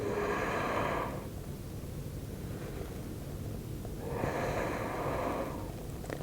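Deep yoga breaths taken close by, two slow rounds of airy inhalation and exhalation separated by quiet pauses, soft and breathy with no talking.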